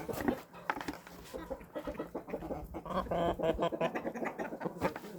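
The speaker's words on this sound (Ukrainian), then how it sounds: "ці бентамки щось там підкудахчуть" Bantam chickens cluck and chatter softly around a farmyard, a run of irregular, overlapping clucks and murmurs at close range with no one speaking.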